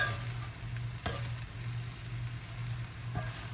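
Fried rice warmed and stirred in a pan, a steady low sizzle with a few scraping stir strokes, fairly quiet and close, with a faint hum underneath.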